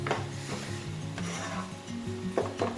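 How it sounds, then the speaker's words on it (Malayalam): A spoon scrapes and rubs through fried snack powder mixed with melted jaggery in a pot, a steady close gritty stirring with faint sizzling underneath and no voice. "നല്ലോണം ഇതൊന്ന് മിക്സാക്കി കൊടുക്കാം"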